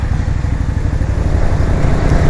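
Bullit V-Bob 250 motorcycle riding through traffic between lanes, its engine a steady close rumble with wind noise throughout, no talk.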